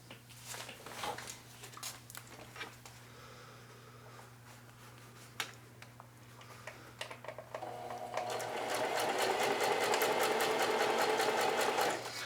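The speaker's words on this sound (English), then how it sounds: "So now I'm just going to do an edge stitch right down that side there, that curved side." Sewing machine edge stitching down the curved side of an apron: a steady rapid needle whir that builds after several seconds of scattered clicks and small handling taps, close and fairly quiet.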